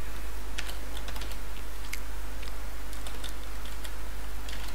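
Code is typed on a computer keyboard in a quiet room with a steady low hum, the key clicks coming in quick irregular clusters, faint and close, with no talk.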